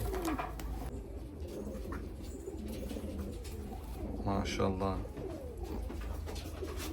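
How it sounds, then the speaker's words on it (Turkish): Uzbek pigeons coo softly over a steady background murmur, with a person speaking briefly nearby. "Arkadaşlar efsane bir takım. Özbek kuşları."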